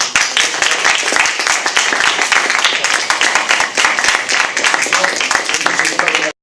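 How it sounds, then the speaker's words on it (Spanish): An audience at a young writers' literary gathering applauds loudly, a crisp, continuous patter of many sharp claps that runs evenly for about six seconds and then stops suddenly. "Pues yo creo que habría que dar un aplauso enorme a..."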